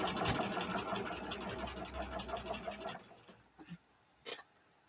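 A sewing machine stitching in a steady fast whirring rhythm for about three seconds, then stopping, followed by a few faint clicks and a brief sharp handling noise.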